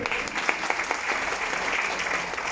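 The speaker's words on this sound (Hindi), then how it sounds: "प्लीज सबके लिए जोर का ताली होना चाहिए।" A steady patter of audience clapping at a public gathering in India, fairly close and even throughout, with no clear voices over it.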